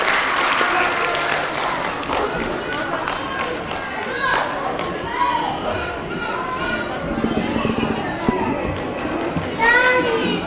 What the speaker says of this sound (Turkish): Kuvvetli bir alkış alıyoruz Doğan'ımıza.